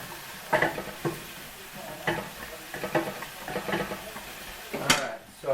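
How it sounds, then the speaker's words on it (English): Green beans stirred in a hot pan, a run of scraping, clattering utensil strokes over a low sizzle, fairly close, with a sharp clank near the end and a voice briefly present. "Give my green beans a stir here real quick."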